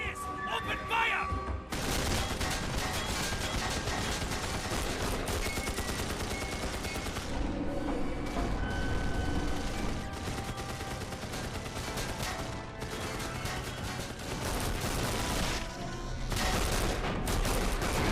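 Gunfire in the Wolfenstein video game on Xbox 360, sustained loud bursts of automatic fire and shots pounding almost continuously over background game noise, with shouted voices at the start.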